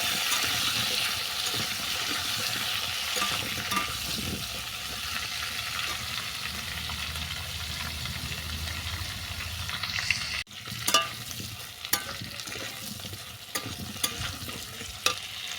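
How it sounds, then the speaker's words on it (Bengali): A mix of vegetables for a bottle gourd leaf chachchari is stir-fried in hot oil with asafoetida, giving a strong, steady sizzle, then sharper scraping stirs and clatters near the end. "লাউ শাক আর মটরশুঁটি বাদ দিয়ে সমস্ত সবজিগুলোকে তুলে দিলাম"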